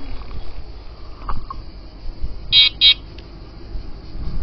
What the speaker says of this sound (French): Il me semblait que ça klaxonnait plus fort.